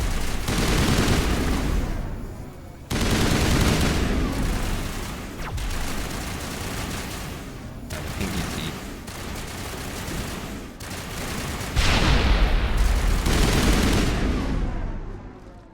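Gunfire in Mass Effect comes as loud, dense bursts of automatic fire and heavy shots, packed close together with brief gaps between volleys, ending in one especially forceful burst.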